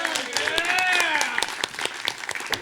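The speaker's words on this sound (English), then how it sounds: "Can we get a round of applause?" Convention audience at a pony fan con opening ceremony gives a brief burst of scattered clapping, crisp individual claps fading out, with cheering voices and talk mixed in.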